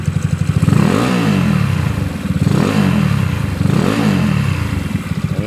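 A 190cc motorcycle engine with an air cleaner fitted revs hard up close, its loud buzzing note rising and falling in three repeated throttle blips over a steady idle, with no talk.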